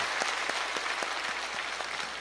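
A church congregation claps together at a dawn prayer service, steady dense applause filling the space with faint individual claps standing out, sustained throughout without talk.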